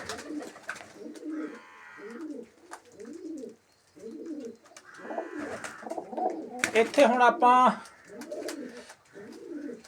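Pet pigeons coo in repeated soft, low rounded phrases close by, broken by a louder burst of flapping or scuffling; someone speaks intermittently over the birds.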